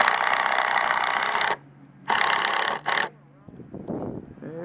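Screws driven into cedar deck boards on a curved lakeside dock, two long steady power-driver whirs and a short third burst, loud and close, followed by a brief voice.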